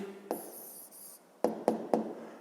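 A pen writes an answer by hand on paper, heard close as a brief scratching stroke followed by three quick, crisp marks in a quiet room.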